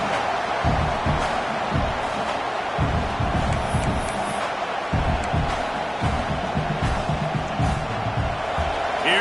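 Crowd noise at a college football game, a loud continuous roar of fans swelling between downs and filling the whole stretch without clear breaks.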